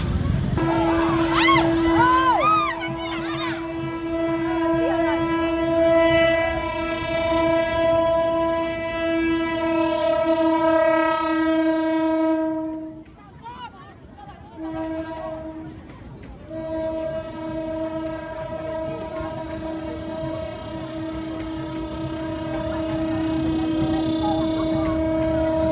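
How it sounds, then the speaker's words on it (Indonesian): A train on the railway line in Pariaman sounds its horn in long sustained blasts, pausing briefly before a second blast, with rumbling rail noise beneath and a few faint voices nearby. "di Pariaman ini ada jalur kereta api yang dilalui oleh"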